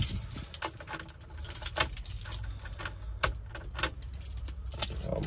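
Car keys jangle and clink in a hand for a few seconds, close up and fairly quiet, with a light rattling texture and sharper metallic taps throughout.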